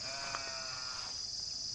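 A single short goat bleat rises faintly over a steady, hissy outdoor background on a farm, with no voices.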